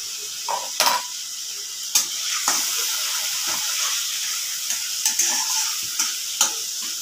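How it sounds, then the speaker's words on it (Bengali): Spice paste with salt and turmeric frying in a pan for papaya ghonto, a steady close sizzle broken by repeated scraping knocks of a spatula stirring it, several distinct strokes spread through the clip, with no talk. "মশলাটা ভালো করে কষিয়ে নেব।"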